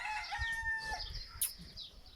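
Aseel rooster crowing close by with a drawn-out, wavering call over a low background rumble and brief clucking.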